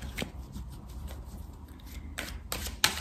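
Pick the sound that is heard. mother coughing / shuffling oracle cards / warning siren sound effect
shuffling oracle cards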